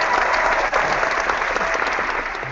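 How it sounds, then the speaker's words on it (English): A crowd bursts into dense, loud applause, a continuous wash of clapping that runs the whole short stretch and tapers slightly at the end. "Applause. The crowd goes wild."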